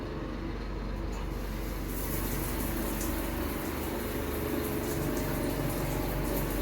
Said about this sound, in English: Let me see if I can turn a shower on here.